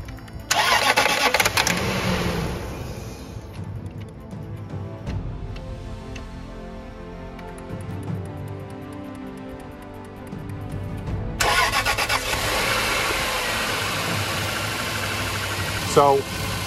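A Land Rover engine cranks and catches after valve cover gasket replacement, then settles into a steady, slightly high idle, with a person talking nearby.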